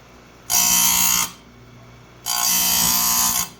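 A grinder sharpening a chainsaw chain gives two loud, close bursts of high whining grinding, each lasting under a second, separated by a short pause of low hum.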